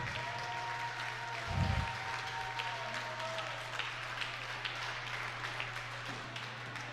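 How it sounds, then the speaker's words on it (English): Wrestling fans at an independent wrestling show applauding both wrestlers after a 30-minute match, a steady wash of crowd clapping from across the arena under a constant low hum. "Listen to the fans give both of these men a round of applause."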